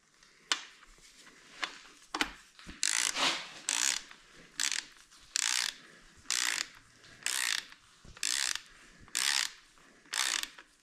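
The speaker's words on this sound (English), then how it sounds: "Grab our torque wrench." Torque wrench ratcheting down bolts on a 351 Cleveland V8 engine's bottom end, set to 50 foot-pounds: a dozen sharp, evenly spaced ratchet bursts of clicking, close and crisp, with brief pauses between each pull and no talking.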